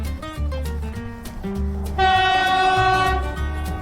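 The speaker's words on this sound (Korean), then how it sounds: "기차가 온다." Train horn blasting loudly near a railway line in Türkiye, a sustained multi-tone blare over the deep rumble of the approaching locomotive, swelling louder in the second half with no voices.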